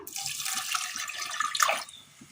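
Water pours into a pressure cooker holding chopped green plantain and onion as a steady close splashing stream that rises toward the end and then cuts off, with no talking.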